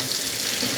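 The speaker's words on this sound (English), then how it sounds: "I meant to turn on the water first." Steady running water from a tap, a continuous even hiss and splash at close range with no voices.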